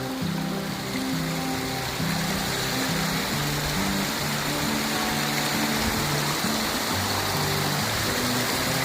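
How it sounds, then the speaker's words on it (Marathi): A river rushes over rocks at night with a loud, constant roar and churn, heard close and continuous throughout, with no voices. "पाणी बघा किती भारी पडतंय."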